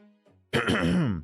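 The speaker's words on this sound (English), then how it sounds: "I had to clear my throat" A single, forceful throat clearing, close and loud, preceded by a faint low murmur.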